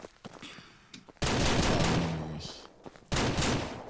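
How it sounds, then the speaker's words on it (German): Loud, close gunfire in the video game Ranch Simulator in rapid bursts: a long volley, a short pause, then another burst, with softer clatter before the first. "ich höre Schüsse"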